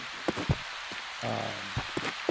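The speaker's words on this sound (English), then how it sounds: "now it's starting to rain." Rain falling in a video game, an even patter of drops on a surface with scattered louder individual hits and a brief tonal game sound midway.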